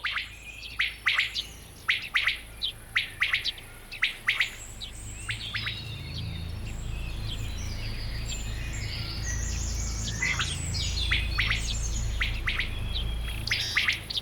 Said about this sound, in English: A courting quail, for example.